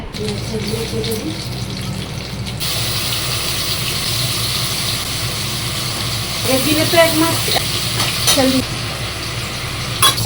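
Pomfret fish frying in oil in a home kitchen, a steady hissing sizzle that runs throughout, with a voice talking over it early on and clinks and brief scraping sounds toward the end.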